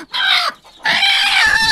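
A broody native village hen clucks loudly and close by, two drawn-out nasal calls separated by a short pause, with no other sound around them.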